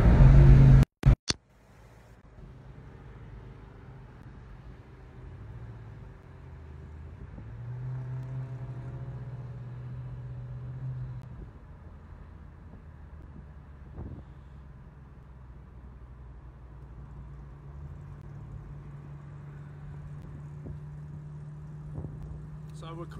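A 2007 Shelby GT-H Hertz convertible cruises around Winton Raceway with its top down. A steady low engine rumble runs under wind buffeting, after a few sharp knocks at the very start.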